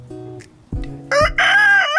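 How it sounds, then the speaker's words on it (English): A rooster crows loudly and close by, its strained, wavering call rising over a steady low hum. "Respond to that rooster who crowed just now"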